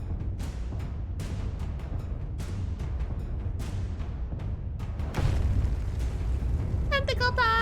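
A video game cannon fires in a run of sharp, booming bursts, evenly spaced and fairly loud, with a voice speaking through the game noise.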